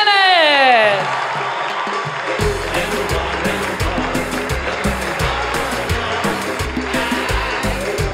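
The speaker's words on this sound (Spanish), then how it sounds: "quiero que reciban con un fuerte aplauso al maestro Jorge Jiménez" Audience applause rising to welcome Jorge Jiménez at a comedy show, a loud sustained wave of clapping and cheering that follows a fading musical sting and continues over a thumping rhythmic beat.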